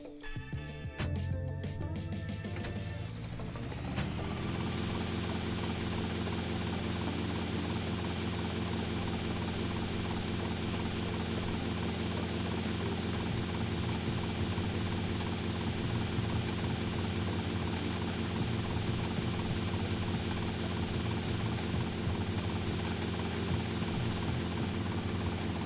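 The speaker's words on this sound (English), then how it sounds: "And helicopters to fly." A helicopter in the video game GTA Vice City starts up and then flies with a steady, loud, continuous rotor and engine drone, beginning with a brief rising spin-up, with no talking.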